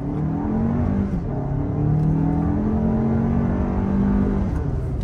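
A 2024 Toyota Grand Highlander Hybrid Max accelerating from a stop, its engine note rising and holding in a steady drone heard from inside the cabin, with no talking.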